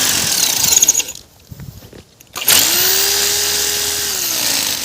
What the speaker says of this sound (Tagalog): Ngayon bubutasan ko na siya